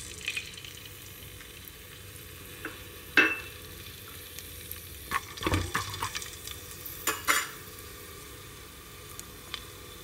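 Fresh coconut pieces frying in ghee, a soft steady sizzle with a few sharper stirring scrapes and clinks of a utensil against the pan, fairly quiet and close.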